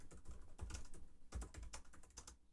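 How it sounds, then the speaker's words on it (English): Fingers type on a computer keyboard nearby, an uneven run of soft clicking keystrokes with brief pauses. "Can you hear that typing?"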